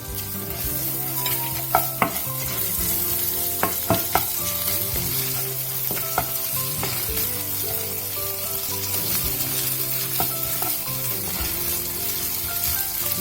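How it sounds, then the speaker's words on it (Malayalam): Crushed ginger and garlic fry in a pan, giving a steady, close sizzle with occasional sharp pops and stirring scrapes, continuous and fairly loud. "ഇനി ഇഞ്ചി വെളുത്തുള്ളി ചതച്ചതിലിട്ട് ഇടാം."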